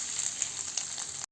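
A piece of cinnamon, four cloves and two or three green cardamom pods sizzle in hot ghee, a bright continuous crackle with small pops that cuts off abruptly at the end.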